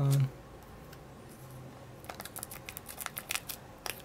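Quiet snipping and crinkling from scissors cutting through plastic packaging, a quick cluster of small sharp cuts after a faint pause.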